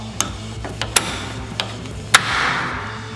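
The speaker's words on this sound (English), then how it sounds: "So like if I want to clamp this block," Armor Tool welding table clamp snapping shut on a steel block, a few sharp metallic clicks and ratchet ticks close by, ending in a louder clack and a brief rushing hiss.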